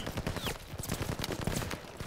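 Enemy machine gun in a Call of Duty D-Day battle at Merville, 1944: a dense, continuous stream of rapid shots crackles through a busy, noisy battlefield.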